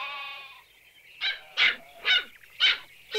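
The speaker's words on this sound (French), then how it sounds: "Pourquoi tu aboies?" A cartoon dog barks four times in quick succession, sharp and close, after a brief whining tone at the start; no one speaks; from an animated children's show.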